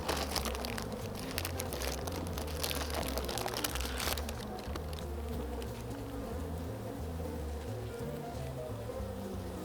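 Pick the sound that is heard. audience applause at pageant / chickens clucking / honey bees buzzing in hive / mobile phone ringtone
honey bees buzzing in hive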